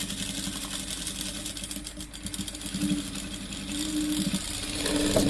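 A sewing machine stitches a silk skirt for a three-month-old baby, with a rapid, even mechanical whir that holds steady close by, then grows slightly louder near the end.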